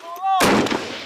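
A single loud, close gunshot or blast rings out during the battle of Brega in Libya, following a brief voice and decaying over the next half second.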